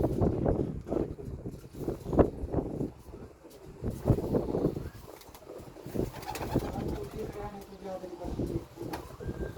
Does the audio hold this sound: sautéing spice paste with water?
no